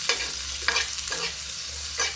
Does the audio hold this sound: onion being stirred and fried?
yes